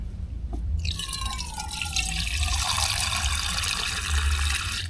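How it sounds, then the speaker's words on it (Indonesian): Water from a tap on a Mount Lawu hiking trail starts gushing after a faint drip, then runs in a steady splashing stream into a container, close and continuous. "Keran."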